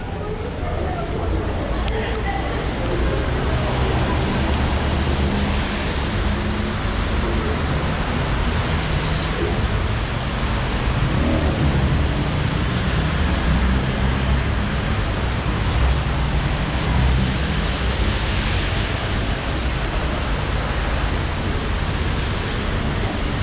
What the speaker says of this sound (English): It's raining like crazy hell.